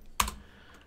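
A single sharp computer keyboard keystroke, close and brief, then a short fading tail in a quiet room.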